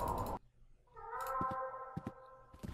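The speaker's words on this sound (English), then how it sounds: "I hear a cat meowing in the distance." A cat meows in a video game, a drawn-out, tonal, wavering yowl that rises after a short noisy burst and lasts about a second and a half, set back at a moderate distance.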